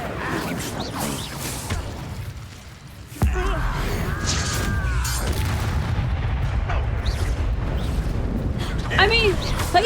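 A fire spell, Incendio, cast in Hogwarts Legacy bursts in as a sudden loud rumbling whoosh that keeps roaring steadily afterward, with game sounds and a voice around it.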